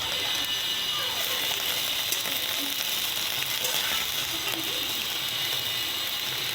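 Fish fry in oil in a hot wok, a continuous crackling hiss close by with faint clinks from the pan.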